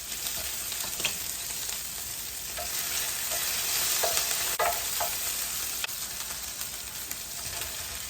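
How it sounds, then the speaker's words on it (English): Sliced mushrooms frying in a pan with bacon, onion and celery give a steady sizzle, with occasional scraping stirs and light clicks of a utensil, close up and without talk. "then I would throw in the celery for like a minute or so, and then I put my mushrooms in"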